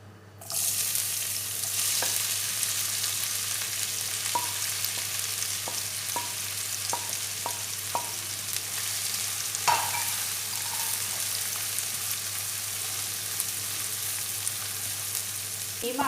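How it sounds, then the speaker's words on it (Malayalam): Crushed spices sizzle and fry in hot coconut oil for a dry prawn roast, a steady dense hiss broken by occasional stirring clicks of a spoon against the pan, close and loud with no talking. "ആ വെളിച്ചെണ്ണ ചൂടാകുമ്പം നമുക്ക് ചതച്ച് വെച്ച മസാലകൾ ചേർക്കാം."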